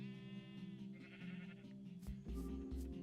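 Sheep bleating in the Minecraft video game, a short wavering call followed by a few sharp game sound effects, fairly close with no talk.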